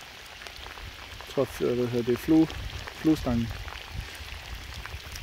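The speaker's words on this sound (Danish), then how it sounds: "Men det regner en lille smule." Light rain falls steadily during a fishing outing, a soft continuous hiss and patter running throughout while someone speaks briefly over it.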